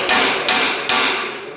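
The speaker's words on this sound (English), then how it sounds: "tap right here with your hammer" Hammer tapping on a part of a WD45 tractor's brakes, three sharp metallic strikes about half a second apart, each ringing briefly before the next, loud and close with no talk.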